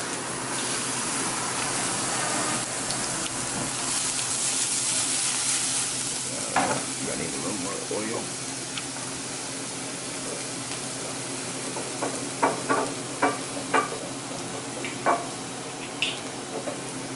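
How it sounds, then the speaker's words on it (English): Garlic and spinach sizzling in a very hot iron skillet, a dense frying hiss that eases into quieter crackle with scattered sharp pops and stirring clatter. "we're about to go ahead and throw our garlic in with our spinach. Our pan is super hot"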